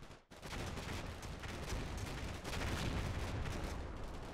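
Gunfire and grenade blasts from the war game Combat Mission: Black Sea, with a Stryker Brigade assault, form a dense, continuous barrage of rapid shots and booms after a brief quiet opening.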